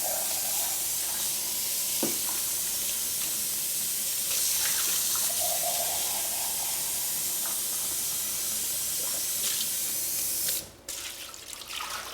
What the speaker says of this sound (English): I'm going to rinse this out just a little bit more.